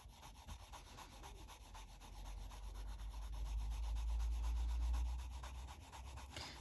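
A colouring pencil rubbing back and forth on paper in steady rapid strokes, close and soft, swelling slightly in the middle of a quiet stretch with no speech.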